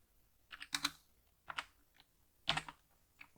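Keystrokes on a computer keyboard as a command is typed into a terminal: several quick clusters of light clicks with short pauses between them, close and fairly quiet, no voices.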